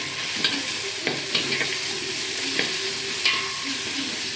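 Whole spices and masala fry in hot oil with fresh mint and coriander for jeera rice, giving a steady close sizzle broken by several soft scrapes and stirs of a spoon in the pan.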